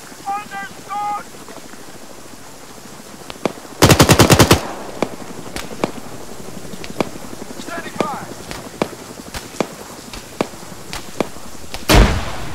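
Arma 3 battle: a loud burst of machine gun fire near four seconds, a second burst near twelve, single shots cracking in between, and shouted voices through it.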